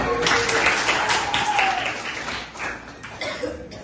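Classroom applause for a student named Ita, dense clapping from a small group filling the whole stretch, with a voice or two and light laughter mixed in.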